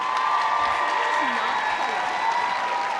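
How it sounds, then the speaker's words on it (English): A crowd at a comic convention cosplay contest applauds for a cosplayer, a steady wash of clapping with a few cheers and a sustained tone running beneath it. "Give her a round of applause."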